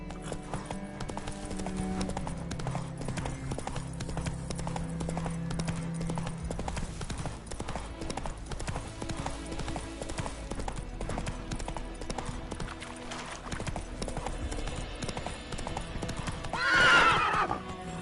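Roach, the horse in The Witcher 3, gallops with rapid, steady hoofbeats throughout, ending in a loud neigh near the close.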